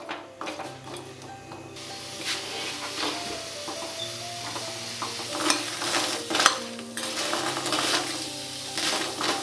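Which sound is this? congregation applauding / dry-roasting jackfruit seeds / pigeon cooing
dry-roasting jackfruit seeds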